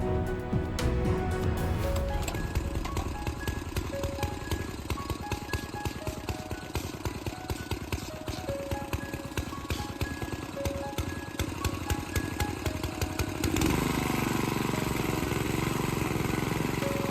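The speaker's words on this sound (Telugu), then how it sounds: "మనదైతే పెట్రోల్తో ఒకటి ఉంది మోటరు. సో అది కూడా ఆన్ చేస్తున్నాం అనమాట." A petrol-powered motor water pump runs beside a pond while draining it, a steady, rapid chugging drone that holds throughout and shifts in tone near the end.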